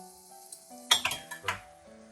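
Paneer drops into a hot pan for gotala dosa, with sharp metallic clinks and scrapes of a spatula against the pan over a light sizzle, close and fairly loud in bursts. No one speaks.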